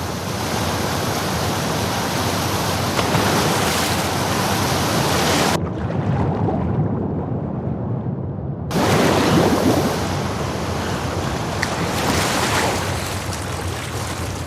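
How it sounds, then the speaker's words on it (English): A fast-flowing torrent of water in The Last Of Us Part II roars as a loud, dense, continuous rush, briefly dropping to a muffled, duller wash for a few seconds before the full roar returns. "the player was faced with a fast-flowing torrent of water they couldn't cross"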